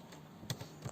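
A few soft keystrokes on a computer keyboard as code is typed, quiet close clicks with no voices.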